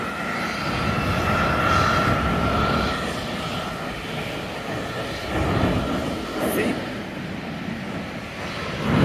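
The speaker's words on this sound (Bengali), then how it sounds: "আরেকটা স্পিরিটের এয়ারপ্লেন পিছনে এসে লাইনে দাঁড়াইছে" Spirit airliner taxiing into line at a busy airport, a steady broad engine roar holding throughout with a whine on top, moderately loud and continuous.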